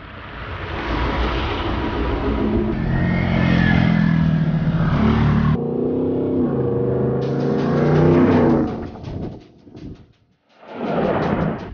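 A lifted Ford F150 truck on the Bee Canyon off-road trail grinds through ruts, its engine droning and revving loudly up close, then fading briefly before surging again.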